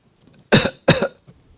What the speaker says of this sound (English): even you just cough like that